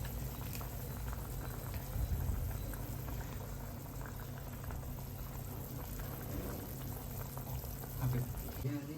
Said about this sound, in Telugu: వాటర్ అనేది బాగా మరుగుతూ ఉంటుంది